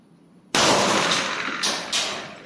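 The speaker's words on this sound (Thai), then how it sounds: "จะลองยิงที่ระยะประมาณ 6เมตรนะครับ5เมตรกว่าๆสำหรับ 1911นะครับ กับที่ขวดนะครับ" A 1911 A1 .45 pistol with a 5-inch barrel fires at a bottle about six metres away: one sharp, loud crack, then two more shots close together, each trailing a ringing decay.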